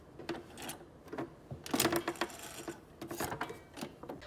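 A sewing machine running a long basting stitch at about 5 millimetre stitch length, quiet bursts of rattling mechanical stitching that start and stop, close by with no talk.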